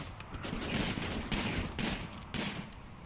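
Video game gunfire from RimWorld Alpha 15: bursts of rapid shots in a quick volley, repeating in clusters, moderately loud with no talk over them.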